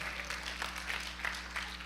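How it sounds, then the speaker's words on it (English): Faint audience clapping at a health symposium comes in soft, quick bursts at a roughly steady rhythm over a low hum, distant and thin. "If you're clapping, clap right."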